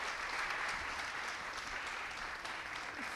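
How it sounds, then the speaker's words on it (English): A seated audience of students applauds steadily at a careers event, a dense, even patter of clapping heard alone at moderate volume for a few seconds. "If everyone could give them a round of applause for coming today."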